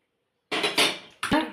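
A spice mixture is stirred with oil in a pan, with two short bursts of scraping and clattering against the metal, close and loud after a moment of silence.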